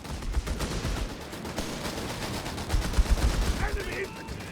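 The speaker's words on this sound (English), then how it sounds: "Thompsons versus Bren guns and MP40s as well there. A lot of shooting here." Thompson, Bren gun and MP40 fire in the Company of Heroes 3 strategy game, a dense, continuous rattle of automatic gunfire with heavier thumps later on, mixed with battle noise.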